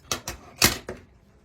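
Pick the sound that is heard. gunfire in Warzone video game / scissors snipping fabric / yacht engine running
scissors snipping fabric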